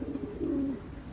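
Racing pigeons coo softly in a loft, a low throaty burble rising into one longer rolling coo, with no voices present.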